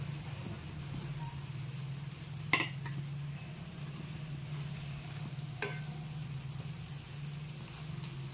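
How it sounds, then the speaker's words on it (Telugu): Fish pieces frying in masala in a pan, a steady low sizzle running throughout with a couple of brief sharp clinks of a utensil against the pan. "ఇప్పుడు ఈ చేప ముక్కల్ని ఇందులో పెట్టేసుకుందాం."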